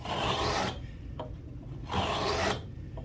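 A Japanese pull saw rasps through wood cutting a sliding dovetail, two long, loud pull strokes separated by quieter return movements.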